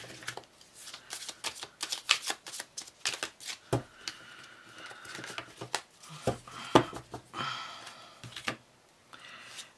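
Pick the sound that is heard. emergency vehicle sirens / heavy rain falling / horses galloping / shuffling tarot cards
shuffling tarot cards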